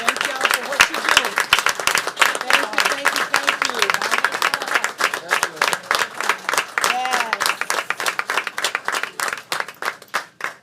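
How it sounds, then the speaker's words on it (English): Audience applause at a school board meeting honoring parents and guardians, a dense, steady clapping crowd sustained across the whole stretch with scattered louder individual claps and some voices mixed in. "If we can stand and give our parents a round of applause."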